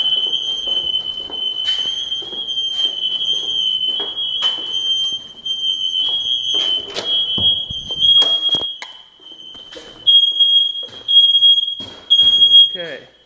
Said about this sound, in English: residential fire alarm